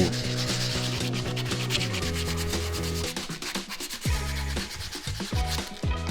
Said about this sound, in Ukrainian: Перетираємо її різними шкурками, починаючи з крупної і закінчуючи дрібною.